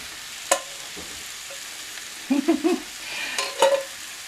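Potatoes going into a large pan from a garden harvest, with a few close clatters and soft sizzling bursts over a quiet background, no voices.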